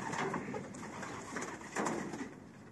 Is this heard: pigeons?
yes